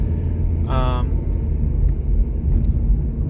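A car is driven with the cabin heard from inside, a steady loud low rumble of road and engine noise that continues throughout, with a brief voice sound early on.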